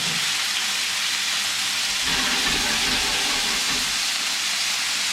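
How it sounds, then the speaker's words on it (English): Potato and ricotta gnocchi sizzle in a hot pan of olive oil, a loud, steady frying hiss that holds unbroken and close throughout. "Let that sizzle, because what that's doing right now is that's giving you your nice crunchy texture"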